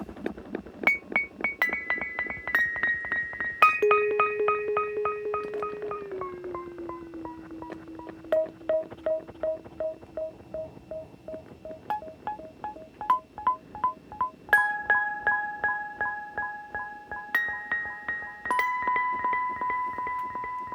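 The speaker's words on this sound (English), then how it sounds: "one of these sort of music box movements" A tinkling music box melody plays alone, bright plucked metal notes ringing out one after another at a steady, gentle pace.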